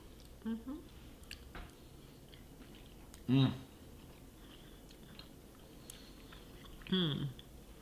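Someone eating hearty bread dipped in Italian aqua cotta soup, with soft, moist chewing and a few louder bites close to the mic over a low steady background hiss.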